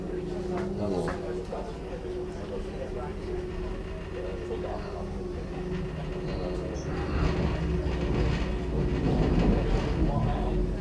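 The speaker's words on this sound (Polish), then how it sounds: "pociąg przetacza się na nasz, czyli berliński peron" A train rolls slowly into a Berlin station platform, rumbling and squealing faintly with a steady engine hum, while people talk nearby.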